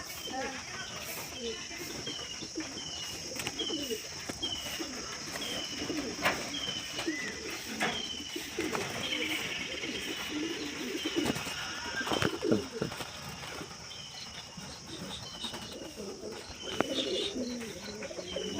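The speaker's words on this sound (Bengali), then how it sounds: "সকালবেলা ছাদে ঝুম্পা তাহলে পায়রা ছেড়ে দিই" Domestic pigeons released from a rooftop in the morning after a storm, soft repeated cooing and scattered chirps with occasional wing flaps, steady outdoor ambience throughout with voices talking intermittently.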